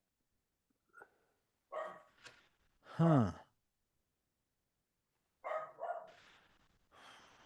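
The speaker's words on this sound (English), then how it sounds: "I had a delivery come to my house, and my dog is furious about it." A house dog barks furiously at a delivery, giving a few sharp, close barks in uneven bursts separated by quiet gaps, with a breathy sigh between them.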